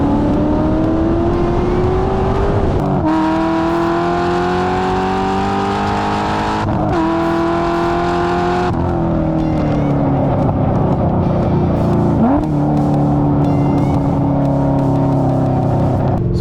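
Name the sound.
2007 Chevrolet Corvette C6 Z06 driving on a race track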